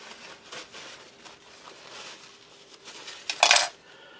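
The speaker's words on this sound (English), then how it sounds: "Just give my spoon a rinse." A spoon rinsed after mixing thick chocolate drink from an MRE: soft background clatter, then a brief, louder splash of running water with metal clinks near the end, close by.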